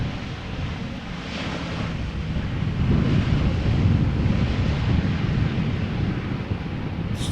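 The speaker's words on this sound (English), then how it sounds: "But you do get more vibrations from the wind." Strong crosswind buffets an outdoor camera microphone at Amsterdam Schiphol Airport, a loud continuous low rumble swelling midway, with no voices.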